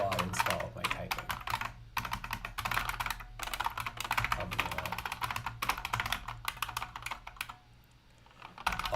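Rapid typing on a computer keyboard, a dense stream of close clicky keystrokes that pauses briefly near the end, with a single short spoken word.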